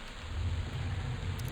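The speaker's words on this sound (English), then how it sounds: "These storms last forever." Steady rain and a low rumble of thunder from a storm in the game EverQuest, a continuous wash of rainfall with deep rolling thunder underneath and no voices.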